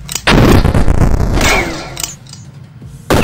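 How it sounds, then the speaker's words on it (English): A grenade blowing up in a Super Fighters game lands as a loud boom with gunfire-like bursts, a sharp opening blast fading into rumble, and another hard hit near the end. "I was using the grenade. Oh, it blew up in my hand."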